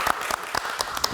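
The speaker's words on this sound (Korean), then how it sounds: "우리 훌륭한 고성기 목사님을 위해서 우리 무교인들 박수 한번 치시고." A small group at a shamanism podcast recording in a mountain setting claps for a pastor, five or six distinct hand claps in a quick, even rhythm, close and brief.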